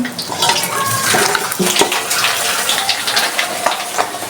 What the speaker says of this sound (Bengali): পাপড় ভাজা শুরু এখন